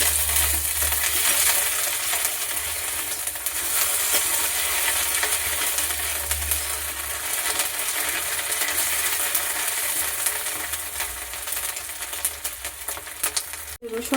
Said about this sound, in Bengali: এর মধ্যে দিয়ে দিচ্ছি আদা বাটা। একটু ভালো করে ভাজবো।